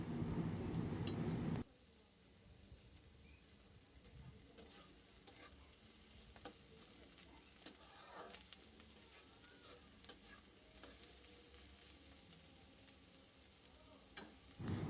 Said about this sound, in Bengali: তো এরকম করে মিনিমাম 10 মিনিট ভেজে নিতে হবে, যতক্ষণ না পর্যন্ত এগুলো হালকা লাল হয়ে যায়।